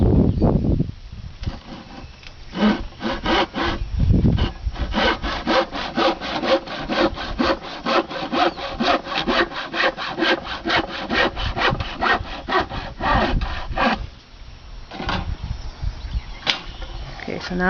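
Hand sawing through wood for a fence: a long run of quick, rhythmic rasping strokes close by, with a few knocks and brief pauses at the start and near the end.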